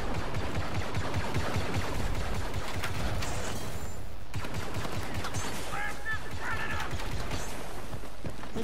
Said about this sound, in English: Just shooting trees all of a sudden.